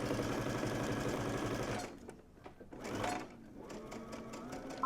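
A sewing machine runs a continuous stitch along a garment's back seam, a steady close whirring rattle that stops, leaving quieter handling sounds and a short burst of motor noise.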